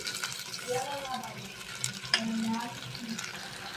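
Sugar going into a sizzling tempering of curry leaves and green chillies, a soft frying hiss with stirring and a sharp clink partway through, fairly quiet with faint voice-like tones underneath.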